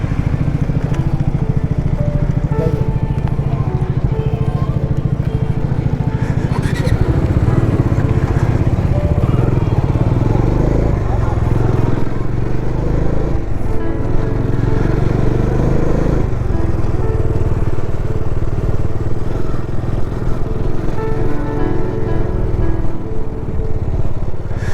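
A motorcycle rides on the mountain road from Gangtok to Nathula, its engine a loud, constant close-up drone with rumble and rattle and no real pauses throughout.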